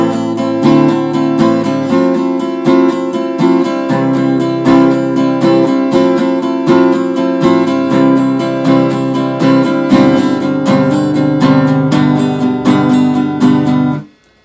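Guitar plays the opening chord progression of a song, a steady, strummed rhythm of ringing chords, close and loud, with a chord change partway through before stopping abruptly at the end.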